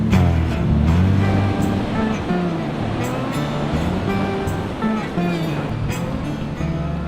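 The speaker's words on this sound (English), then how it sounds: "You can see how the wave crests first" Ocean surf at Noosa Heads beach in Queensland rolls in as a steady, loud wash of breaking waves with a low rumble, continuous throughout and without speech.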